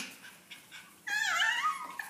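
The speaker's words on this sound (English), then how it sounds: "Oh, little Lollipop's barking." An apricot poodle puppy gives a few faint yips, then a louder, high-pitched whining bark near the end, close by, with no talking.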